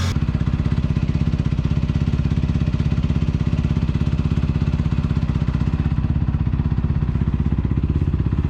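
A motorcycle engine runs steadily up close, a loud, even, rapid chugging pulse that holds throughout without letting up.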